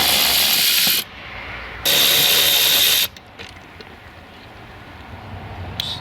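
Two loud bursts of a power tool, probably an impact gun, removing 10 millimeter bolts from a car door panel on a Chevy, GMC or Cadillac during a door handle replacement, each lasting about a second, followed by quieter rattling and handling.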